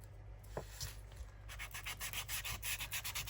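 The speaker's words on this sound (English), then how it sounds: "Give it a bit of a sand." Sandpaper rubs over the pages of a junk journal made from a cheque book: a steady run of quick back-and-forth scratchy strokes, close and fairly loud, with no talking.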